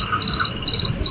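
Crickets chirping at night in a steady, repeating rhythm of short, bright trills, fairly close and clear over a soft background, with no voices.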